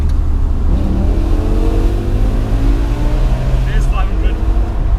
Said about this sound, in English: when you downshift, it sounds like a race car